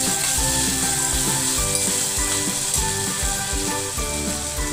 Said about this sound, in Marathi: यात आपल्याला घालायचे आपल्याला छान परतून घ्यायचे आहे